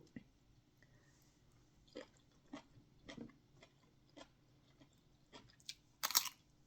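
Crunchy chewing on a Thai koi dish, a spicy bitter minced salad eaten with vegetables and sticky rice: a few quiet, separate crunches spaced over several seconds, with a louder burst of crunching near the end.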